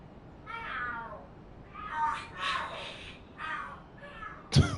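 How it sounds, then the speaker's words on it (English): Cats screech and yowl in a fight in the video game Lost Judgment, several drawn-out wailing cries rising and falling, followed by a sharp sudden crash at the end. "The hell are there cats fighting? What are they screaming for?"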